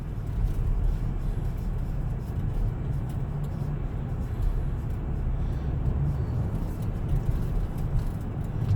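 Steady low rumble of a car driving along a road, heard from inside the vehicle as a constant droning engine and road noise with no clear changes and no talking.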